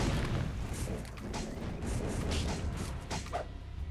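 Skill explosions blast monsters in the mobile game Ghost Soul M, a dense, rumbling stream of booms and crackling impacts that carries steadily through the whole stretch at moderate loudness.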